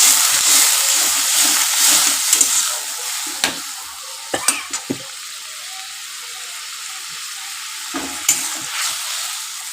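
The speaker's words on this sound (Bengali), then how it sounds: "আর একটু তেল দিয়ে দিলাম, একটু জল দিয়ে দিচ্ছি" Green banana peel curry stir-fried in a pan with oil and a splash of water, giving a steady close sizzle broken by scraping stirs and a few sharp clacks of the spoon.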